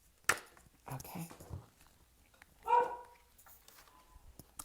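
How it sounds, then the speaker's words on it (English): A pet dog barks a few times indoors at home, sharp short yaps near the start and a louder bark in the middle, with quiet room sound between. "you might be hearing my dog bark here"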